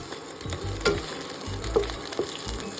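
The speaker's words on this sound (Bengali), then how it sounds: "এই যে আলুগুলো দিয়ে দিয়েছি এবার আলুগুলো ভাজা হলে" Potatoes fry in a pan with onion and green chilli, a short close sizzle punctuated by a few soft stirring scrapes and clinks, moderately loud and without talk.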